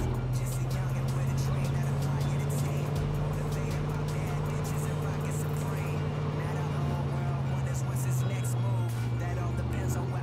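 A car driven in a video game hums at a steady low engine drone, loud and continuous throughout, with game ambience layered over it and a player talking now and then.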